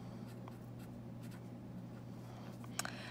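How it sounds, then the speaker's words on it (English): Pen scratching out a chemical formula by hand, faint irregular strokes over a steady low hum, with one sharper tap near the end; no talking. "And then I can go ahead and write them together."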